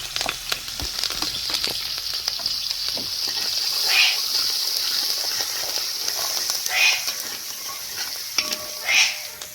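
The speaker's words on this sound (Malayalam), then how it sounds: "ഇതിലേക്ക് തന്നെ നമുക്ക് വെളുത്തുള്ളി ഇഞ്ചിയും പച്ചമുളകും ചേർത്ത് കൊടുക്കാം വേപ്പിലയും കൂടെ ചേർത്ത് കൊടുക്കാം" Garlic, ginger, green chilli and curry leaves frying in oil, a bright continuous sizzle with stirring clatter and a few louder spitting bursts, up close.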